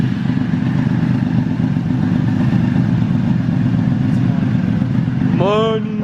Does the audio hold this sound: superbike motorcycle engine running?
yes